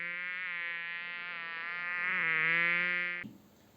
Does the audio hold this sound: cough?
no